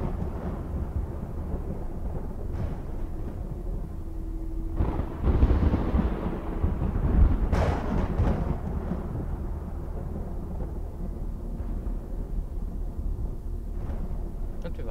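Thunder rolls through a storm in the video game Madison, with a low rumble building and cracking in the middle before fading back into a quiet, steady background.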